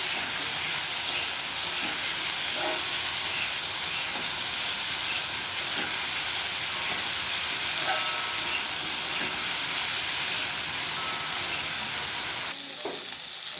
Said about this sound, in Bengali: হলুদ এটা দিয়ে এবার আমি ভেজে নেবো সুন্দর করে